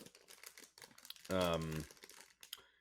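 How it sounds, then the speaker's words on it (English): A snack package crinkles as it is unfolded, with soft crackling under quiet talk and one louder burst of rustling, all close and faint. "now he's uncrinkling so he can read the ingredients"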